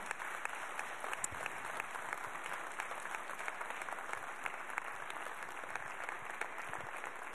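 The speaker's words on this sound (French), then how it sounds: "Je vais vous demander de tous vous applaudir" Continuous applause from an audience at a reception for a WorldSkills finalist team, many hands clapping steadily at an even level throughout.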